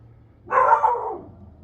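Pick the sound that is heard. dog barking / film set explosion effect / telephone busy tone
dog barking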